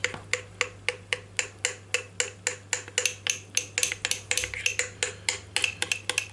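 Butter is mixed gently into a joconde sponge batter, giving a steady run of sharp, evenly spaced clicks from a utensil striking the bowl, close and clear, with no talking.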